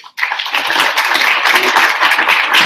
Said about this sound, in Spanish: Por favor, demos un gran aplauso al doctor Arnés.